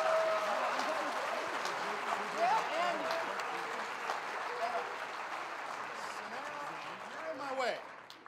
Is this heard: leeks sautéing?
no